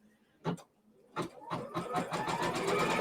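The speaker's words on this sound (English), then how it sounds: "Now we're going to do machine step 2, and that is to stitch this down or tack it down." A sewing machine tacks down a quilt block for a celebration cake design, starting with two short separate bursts of stitching and then running in one steady, continuous whir.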